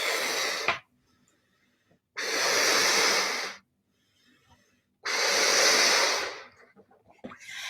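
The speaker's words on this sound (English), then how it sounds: "So you could just blow up a balloon." Three long, loud breathy blasts of air blown out to inflate a balloon, each lasting about one to one and a half seconds with short quiet pauses between them.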